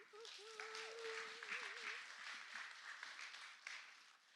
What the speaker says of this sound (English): Welcome with me, please, a huge round of applause for Dr. Aisha Nyandoro and Lydia Storie.